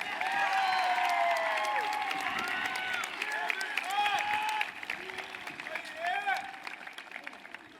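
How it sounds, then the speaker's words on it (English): At a 2024 high school commencement, the audience gives a speaker a big round of applause, a spread-out patter of clapping with whoops and cheering voices rising over it, fading somewhat toward the end. "Let's give her one more big round of applause."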